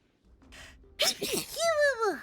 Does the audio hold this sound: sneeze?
yes